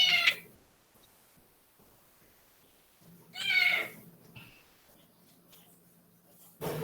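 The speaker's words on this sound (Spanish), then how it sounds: "El gato." A domestic cat meows three times indoors, each cry drawn out and fairly close, separated by long quiet gaps, with a low background hum and faint speech in places.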